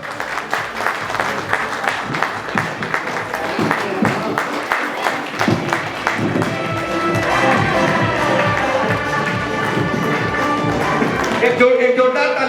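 A seminar audience claps in a sustained burst of applause that swells and holds, with a voice and music faintly underneath toward the end.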